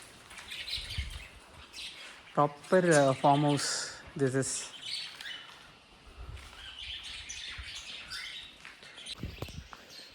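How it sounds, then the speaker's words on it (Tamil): Small sparrows chirp at a farm campsite near Coimbatore in Attappadi, faint scattered tweets in the background while someone speaks. "சின்ன சின்ன குருவிகள்."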